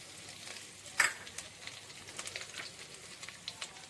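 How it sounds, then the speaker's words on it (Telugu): Grated ginger, garlic and carrot fry in a pan for egg fried rice with a faint, steady sizzle. One sharp utensil clack comes early, and a few softer stirring ticks follow. "ఎల్లిపాయలు తురుముకున్నవి వేసి మంచిగా ఇలాగా ఫ్రై చేద్దాం."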